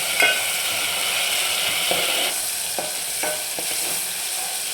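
Cut tomato with cumin seeds being stirred and sautéed in a hot pan while cooking bitter gourd curry, a steady close sizzle broken by several soft scraping stirs, no voices.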